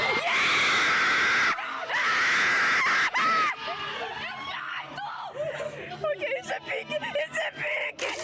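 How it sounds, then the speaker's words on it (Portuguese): A cinema audience at a Hatsune Miku film screams excitedly in loud sustained bursts, then breaks into scattered shrieks, squeals and laughter from many people. "todo mundo começava a gritar muito feliz, que nem maluco"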